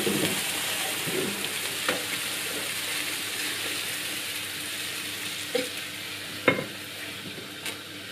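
Mushrooms cook gently in a pan with butter, giving off a soft, steady sizzle and bubbling as they release their liquid, with a few scattered clinks and scrapes of a utensil against the pan.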